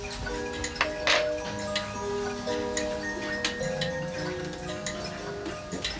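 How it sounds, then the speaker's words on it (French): An old wooden clock ticks steadily and evenly in a quiet room, each tick crisp and close, with faint creaks and resonant mechanical hum between beats. "la vieille horloge dont la voix grince un peu scande la paix de l'heure qui passe"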